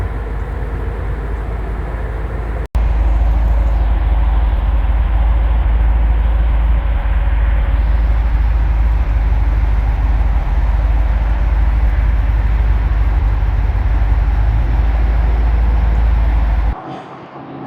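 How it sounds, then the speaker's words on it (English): Steady roar of road traffic passing near a parked RV, a loud continuous rumble with a sharp knock early on and a sudden drop near the end, no voices. "I have to excuse the road noise there in the background."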